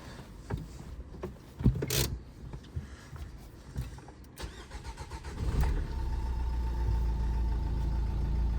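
A Dacia Duster 4x4 with a 1.5 diesel engine with 191,000 km on it: some clicks and rustles, then the starter cranks, the engine catches and settles into a steady low diesel idle close by.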